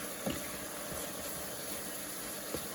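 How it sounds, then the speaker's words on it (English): Cloves, cinnamon and bay leaf sizzle in a pan for a chickpea chole curry, making a faint, steady hiss with a few soft pops close by. "Now you can hear it sizzling."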